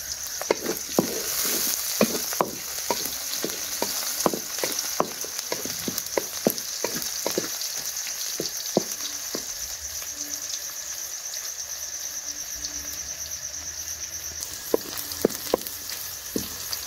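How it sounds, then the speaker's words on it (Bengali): Desi chicken meat sizzles and fries in a pan on a home stove, a constant hiss broken by sharp irregular crackles and pops, with faint insect chirps in the background and no talking. "এখন আমি মাংস চুলায় দিয়ে দিই"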